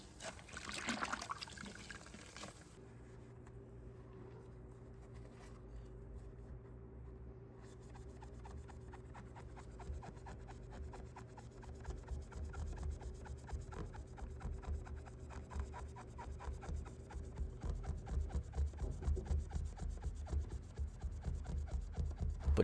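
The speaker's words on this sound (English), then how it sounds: "you rub it just on where the scuffed paint is" A fingertip rubs steadily at a scuff of paint, a soft continuous friction sound that grows slightly louder and denser toward the end, over a constant low background hum with no talk.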